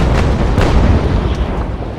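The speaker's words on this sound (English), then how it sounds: "firing a chain shot into them too" Cannon on a brig firing chain shot in the Naval Action sailing game, a loud, close, heavy boom with rolling low rumble over two seconds.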